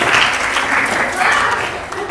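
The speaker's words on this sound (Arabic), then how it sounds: "زين صفقوا لها" An audience at a closing workshop for field-training students and information-systems staff claps in a steady, fairly loud burst, with voices mixed in around the clapping.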